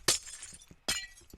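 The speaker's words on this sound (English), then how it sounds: "do you find breaking glowstone on Minecraft quite satisfying?" Glowstone blocks break in Minecraft with two sharp, glassy shatters about a second apart, each ringing briefly before fading. A few soft clicks sit between them, and no one talks.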